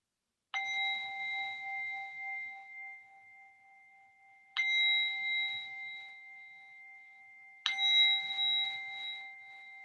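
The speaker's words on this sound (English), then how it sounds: "we'll begin and end with a bell" A meditation bell rings three times, each clear bright strike spaced several seconds apart and left to sustain and slowly decay in an otherwise quiet room.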